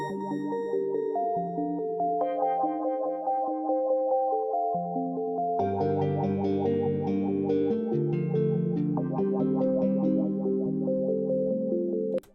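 A hip-hop type beat intro builds up with sustained pads and an arpeggiated synth, with bass entering partway through and the layers thickening steadily before stopping abruptly; no one talks.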